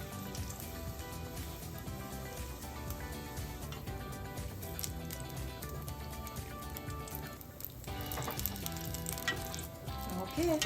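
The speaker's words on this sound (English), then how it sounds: "We're gonna fry it about 20 to 30 seconds only, so that the outside is gonna be crispy and ice cream is still cold." Battered ice cream deep fries for a short time in hot oil, giving a dense, steady sizzle and crackle that fills the whole stretch at moderate level and swells slightly near the end.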